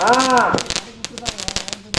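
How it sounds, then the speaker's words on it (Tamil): Firecrackers going off during a street theatre birthday celebration in a Tamil village, a string of sharp pops and cracks scattered irregularly after a voice speaks at the start. "என் புருஷன் வந்து வெடி வச்சுக்கிட்டு இருக்காரு. வெடி வைக்கிறாரு வீட்டுக்கார மாமா."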